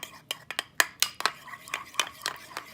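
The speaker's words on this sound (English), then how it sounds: "Okay, so I'm just going to stir this up." A utensil stirring homemade muffin batter in a bowl, producing a series of sharp clinks and scrapes against the bowl in an irregular rhythm, close and fairly loud.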